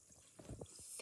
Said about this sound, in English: Now we've just got to let it fizz, I guess.